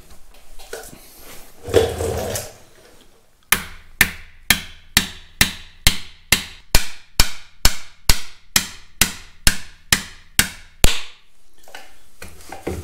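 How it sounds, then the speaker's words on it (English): A series of sharp metallic hammer strikes on a bolt seating a pin in a Caterpillar D2 bulldozer's steering clutch, about sixteen evenly spaced blows, loud and close, after a brief stretch of low rustling. "I'd much rather hammer on that than the top of the pin."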